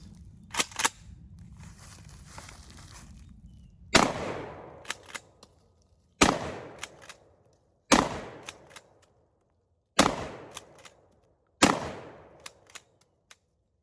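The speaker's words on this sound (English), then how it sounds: "I'm just going to do some single shots with the shotgun here after the firing pin's been fixed" A Ward Western Field 16 gauge shotgun with a repaired firing pin fires six loud single shots. Each sharp blast rings out in a short decay and is followed by clicks of handling, spaced a couple of seconds apart.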